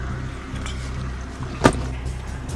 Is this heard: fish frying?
no